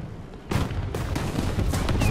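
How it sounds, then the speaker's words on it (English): Booming artillery and gunfire in a video game battle zone, with a sudden heavy blast followed by a rapid run of sharp, loud shots and rumbling impacts. "Drop that artillery on me."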